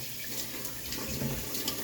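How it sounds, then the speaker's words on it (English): Alfalfa seeds and sprouted lentils rinsed under a running kitchen tap, a steady close splashing stream of water with small bubbling fluctuations and no talk. "I'll give them a good rinse."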